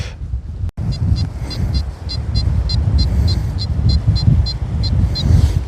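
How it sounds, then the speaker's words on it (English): Wind buffeting the microphone outdoors on a UK metal detecting dig, a loud continuous rumbling roar with gusty swells and a faint repeating high chirp over it. "I can't really get you out the wind because I've dug this way for some stupid reason"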